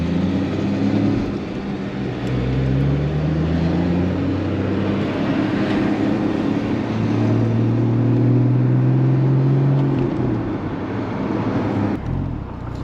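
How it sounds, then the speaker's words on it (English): A 2016 Porsche Boxster Spyder's engine burbles while driving, a loud, steady low rumble with shifting tones as revs rise and fall, heard from inside the moving car. "Listen to that burble."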